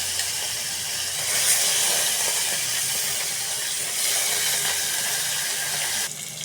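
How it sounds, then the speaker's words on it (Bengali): Koi fish frying in hot oil in a wok, a loud, close, continuous hissing sizzle that swells and eases slightly over several seconds. "এখন আমি কই মাছটা ভেজে নিব"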